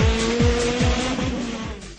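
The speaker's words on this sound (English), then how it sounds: "The sounds of the cars were echoing through the hills" Race cars zoom past one after another on a hill climb, engines whining with sharp falling pitch sweeps echoing through the hills, loud and close, several passes in quick succession.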